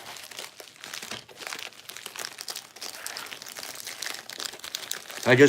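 Wrapping paper on a gift being opened crinkles and rustles in soft, irregular bursts throughout, with a louder knock or thump right at the end; no one speaks.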